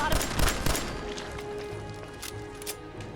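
An upgraded pistol fired in the video game Fallout 4, several sharp shots in quick irregular succession early on, then quieter scattered impacts against steady game ambience.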